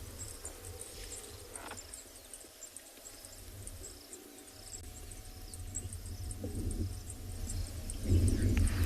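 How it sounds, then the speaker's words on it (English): A Zitting cisticola, a tiny brown grassland bird, repeats a faint, high metallic chinking call in an even tink-tink rhythm at sunrise on a southern African safari, with a low outdoor rumble underneath. "there's a very high-pitched metallic chinking sound"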